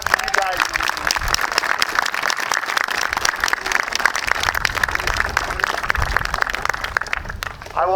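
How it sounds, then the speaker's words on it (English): Dense applause from the audience for the graduating seniors at a school band ceremony, with continuous crackling claps at an even level throughout. "big round of applause for you guys"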